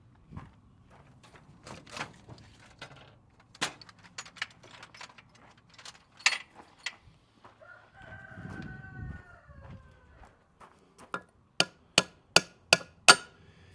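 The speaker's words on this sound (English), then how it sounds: "get a little ball peen hammer here" Scattered metallic taps, then a short squeaky sound, followed by a quick run of six sharp, evenly spaced ball peen hammer strikes on metal.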